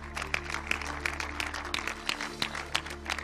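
Light applause from an audience at a film festival awards ceremony greets a jury prize presenter, scattered claps over a steady hum.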